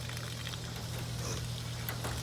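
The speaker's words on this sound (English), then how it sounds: "I'm just gonna let the water run" Water runs steadily from a tap, a continuous broadband rush with a low hum underneath and no voices.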